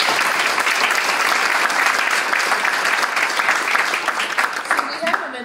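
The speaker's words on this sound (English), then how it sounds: "give him a round of applause" A room of attendees applauds steadily during a tech talk with the Washington DC mayor, a dense and even wash of clapping that stays loud and then fades near the end.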